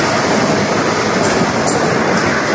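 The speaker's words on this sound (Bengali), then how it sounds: "দেখো মেট্রো চলে গেল, বুঝতে পারলে?" A Kolkata metro train pulling out of a station, a loud, steady rushing rumble of the carriages passing close by, without talk.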